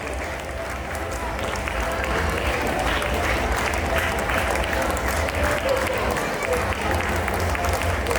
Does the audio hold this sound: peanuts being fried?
no